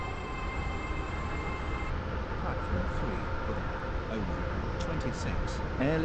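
A train runs in the Roblox Stepford County Railway game as it nears Stepford Airport Central, giving a steady rumbling rail hum with rising tones near the end, while a voice is faintly present underneath.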